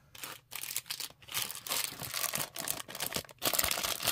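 Close plastic bag crinkling and rustling in irregular bursts separated by brief quiet gaps, fairly soft.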